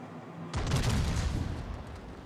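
A heavy Tirpitz battleship main battery fires in a naval battle game, one broad booming blast that rolls on with a dense low rumble for about two seconds.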